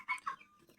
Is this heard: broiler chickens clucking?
yes